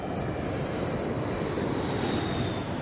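Airliner engines during descent toward rough weather on American Airlines Flight 1420, a steady broadband roar with a faint high whine, constant and moderately loud throughout.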